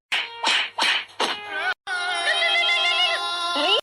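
A phone ringtone plays: a few short repeated tonal bursts, then a sustained warbling electronic melody, loud and close.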